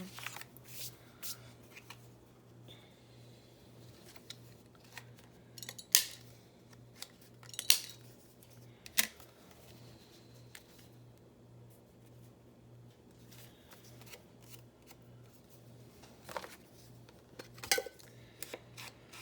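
Handmade animal-themed journal pages being worked, with soft paper shuffling, slides and light taps as cards are tucked in, scattered sharp rustles over a quiet low hum.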